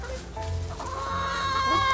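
Several chickens clucking and calling insistently at close range, begging for giant mealworm treats, a continuous overlapping chorus of short rising calls.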